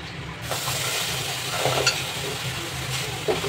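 A milk mixture is stirred into semolina in a pan for sooji modak, with a soft continuous sizzle and scraping as the spoon moves, no talking.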